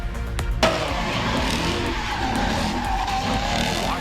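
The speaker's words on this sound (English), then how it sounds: "This car drifts right there into a crowd of people." A car drifts on a Seattle street at night near the Space Needle, tires skidding and squealing loudly and continuously for several seconds, with engine noise and a crowd's murmur underneath.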